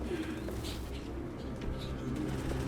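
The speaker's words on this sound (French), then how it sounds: "il y en a des pigeons là, c'est ouf" Pigeons coo in the video game Detroit: Become Human, a soft, low repeated murmur running steadily through the scene alongside ambient background noise.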